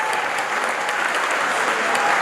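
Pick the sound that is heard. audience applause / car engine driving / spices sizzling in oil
audience applause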